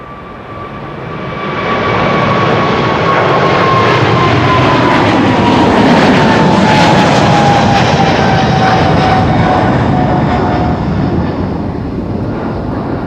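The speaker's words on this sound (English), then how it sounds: "It is a 777-300 the Bravo Victor Victor BVV." A five-year-old Boeing 777-300 widebody jet at Amsterdam Schiphol rises into a loud, close engine roar with a whining tone sliding slowly downward, swelling after two seconds and holding strong before easing slightly toward the end.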